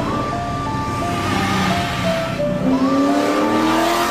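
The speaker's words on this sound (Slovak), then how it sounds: "Horia gumy, nech to zúri, výfuk duní." A black Corvette roars close and loud with a rumbling exhaust as its engine pitch rises and falls, tires squealing, with no talking.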